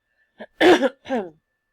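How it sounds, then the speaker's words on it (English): A single cough, close and fairly loud, followed by a brief throat-clearing sound in an otherwise quiet room. "I apologize for the coughing."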